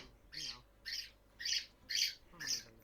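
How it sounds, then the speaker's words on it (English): Loud birds squawk in five evenly spaced bursts, each about half a second long, over a faint background and with no talking. "these birds are loud today"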